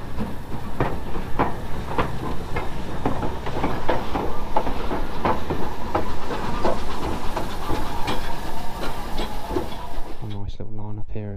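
Steady broadband hiss and rumble of a BR Standard Class 2MT steam locomotive with rhythmic clanking pulses, continuous and fairly loud, cutting off sharply near the end.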